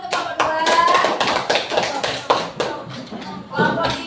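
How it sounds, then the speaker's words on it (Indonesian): Students in a classroom clap for a group of classmates after its presentation, with uneven, scattered hand claps over several seconds, fairly close and moderately loud, while some speech runs underneath. "Tepuk tangan dulu untuk kelompok 2."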